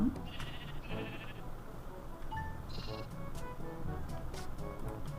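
Sheep bleat in the Minecraft video game, several short, fairly faint bleats spaced across a few seconds over a low background murmur, with no talking.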